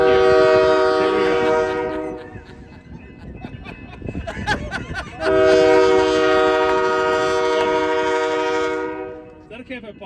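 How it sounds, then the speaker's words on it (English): A Union Pacific train passes an overpass groundbreaking ceremony, its horn blaring loud and sustained with a brief break, over the rumble of rail cars. "here comes the train to welcome this thing home"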